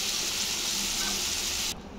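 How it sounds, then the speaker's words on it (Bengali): Curry broth coming to a boil in a pan, a steady close bubbling hiss that cuts off abruptly near the end, no voices. "ঝোল ফুটে উঠেছে।"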